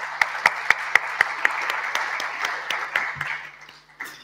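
Audience applause at the HERITECH 2021 conference, a burst of dense clapping from a seated crowd that starts with a few sharp individual claps and then fades out over a few seconds.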